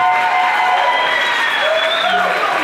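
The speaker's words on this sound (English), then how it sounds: "Give a big clap to our panelists." Loud, dense applause from a meetup audience for a panel of speakers, steady and close throughout with a few cheers and voices rising above the clapping.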